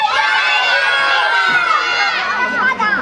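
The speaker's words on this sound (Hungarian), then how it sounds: "És mindenki torka szakadtából kiáltsa a nevét" A crowd of parents and children at a festival concert shouting at full voice all at once, a loud, sustained mix of overlapping yells and cheers that stays dense throughout.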